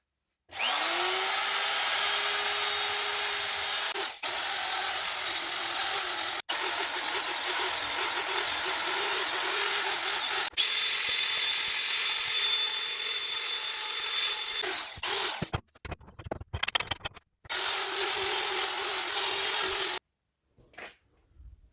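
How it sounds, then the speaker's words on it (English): Rotary grinder smoothing casting residue off an engine intake manifold, a steady high-pitched whine lasting most of the time with brief interruptions, then choppy bursts before one last pass, close and loud with no voices. "casting residue different places here. So I will grind them down"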